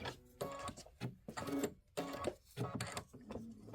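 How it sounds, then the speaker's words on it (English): An embroidery machine stitches the crown point detail of a mini quilt block, its rapid mechanical needle chatter coming in four short bursts separated by brief pauses, close and fairly quiet. "This is stitching the crown point detail."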